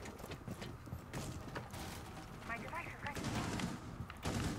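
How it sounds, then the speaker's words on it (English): Loud gunfire from a game of Rainbow Six Siege, in bursts of sharp shots mixed with mechanical clatter and game noise, with talk across the clip. "That loud ass gun, dude."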